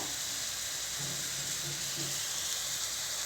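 Raw banana slices frying in hot oil, giving a steady, continuous sizzle and hiss with faint low bubbling that holds at an even level throughout.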